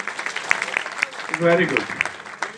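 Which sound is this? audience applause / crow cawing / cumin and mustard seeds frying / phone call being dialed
audience applause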